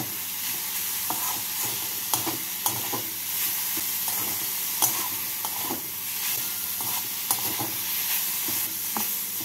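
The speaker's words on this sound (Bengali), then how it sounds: "ভালো করে মিশিয়ে নিয়ে 2 মিনিট মতো ভেজে নেব।" A grated carrot mixture seasoned with salt, ground pepper and oregano fries and is stirred in a pan for a paneer cutlet filling, a continuous close sizzle punctuated by regular scraping clicks of the spatula.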